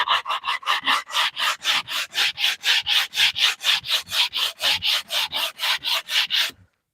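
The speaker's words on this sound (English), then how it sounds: "Now we needed to sand this top anyway" The top of a wooden box is sanded by hand with 80 grit sandpaper, about two dozen brisk rhythmic rasping strokes, loud and close, stopping abruptly at the end.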